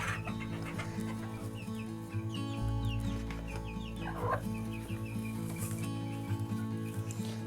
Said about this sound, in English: You got broody hens.